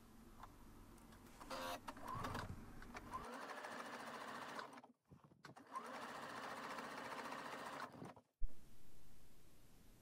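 A domestic sewing machine topstitches close to the edge of a skirt seam, whirring steadily in two long runs separated by a brief stop, ending with a short click and a quieter pause.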